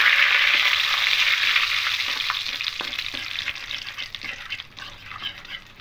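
Whole cumin, dried red chillies, torn bay leaf and asafoetida sizzle and crackle steadily in hot oil in a home kitchen pan. The sizzling is loud and close, easing off slightly toward the end, with no talking over it.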